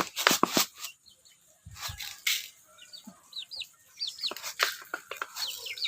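Backyard chickens cluck repeatedly at evening feeding time, a rooster among them, with short, close, bursty calls and some wing flapping, and no talking.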